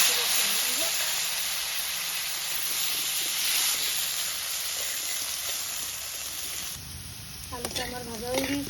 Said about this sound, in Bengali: আলুটা আমার ভাজা হয়ে গিয়েছে